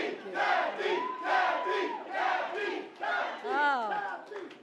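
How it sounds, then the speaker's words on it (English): A morning crowd at a New York governor's public event roars and whoops enthusiastically, with a continuous swell of mixed shouts and cheers that rises and falls without a break. "Oh, what an enthusiastic crowd we have here this morning"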